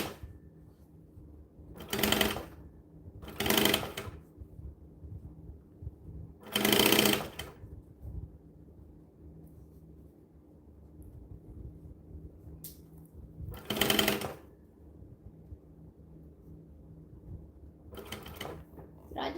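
Short bursts of a sewing machine stitching during a live sewing marathon, four or five runs of a couple of seconds each separated by quiet pauses, with faint talk between them.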